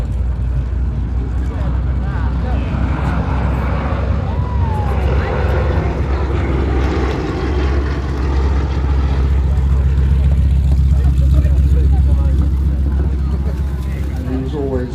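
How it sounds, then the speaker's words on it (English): A propeller aeroplane takes off at Headcorn airshow, a steady engine roar building under a commentator's talk over the public address. "Richard Ward is now getting airborne"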